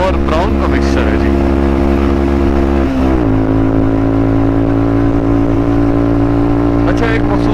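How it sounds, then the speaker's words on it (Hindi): A motorcycle engine runs close and loud on a high mountain highway with thin air, a steady droning hum that dips in pitch partway through and then holds at a lower, uneven note. "एक मखसूस आरपीएम पे जाके बाइक जो है मिसिंग शुरू कर दी"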